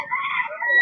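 A rooster crows once in a single drawn-out, ringing call at a busy village market in Batajor, Bhaluka, Mymensingh, fairly close and clear against a quiet background.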